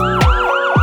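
A siren sound effect in a French rap track gives a short, loud wailing sweep that rises and falls twice in under a second, upfront in the mix.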